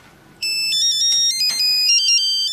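A telephone ringing loudly and close by, an electronic ringtone of bright stepped melodic beeps that starts abruptly after a quiet moment and continues steadily.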